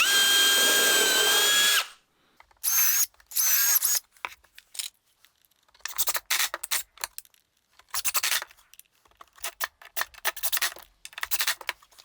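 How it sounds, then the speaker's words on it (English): A power drill pre-drills kitchen cabinet parts, with one sustained whirring run followed by several short, sharp bursts of the motor spinning up and stopping, close and fairly loud. "and pre-drill everything."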